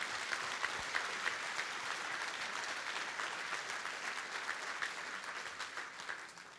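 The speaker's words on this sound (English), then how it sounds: "Please give a great round of applause to this great city staff." A large audience at a city's State of the City address applauds the city staff, sustained even clapping from many hands that holds steady throughout and tapers slightly at the end.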